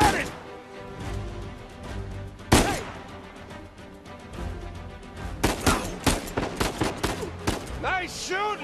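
Gunfire in the video game Uncharted 4 cracks out in sharp bursts, one loud shot early then a rapid run of shots toward the end, mixed with game sound effects and voices.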